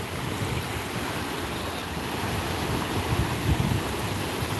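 Ocean waves washing onto a beach, a broad, continuous roar of surf mixed with wind buffeting the microphone, fairly loud and swelling slightly toward the end, with no voices.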